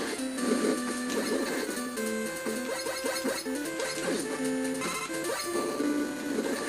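Mega Man 9 Magma Man stage: chiptune-style game music with melodic square-wave lines plays continuously at steady loudness, mixed with bursts of blasts and hit effects.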